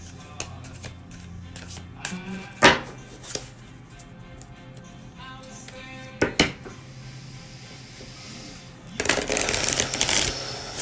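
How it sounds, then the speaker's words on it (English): A deck of cards being handled and shuffled by hand up close, with scattered taps and sharp clacks and then a dense riffling burst toward the end, and no talking. "Let me shuffle."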